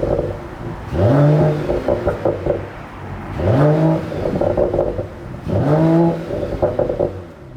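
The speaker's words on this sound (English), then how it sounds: "if you put the car into Sport Plus as a prerequisite, turn the car on and hold the upshift paddle" A Mercedes-AMG CLS 53 in Sport Plus mode fires up and revs in three repeated bursts, each rising sharply, then settling with a short run of knocks and crackles, loud and close with no voices.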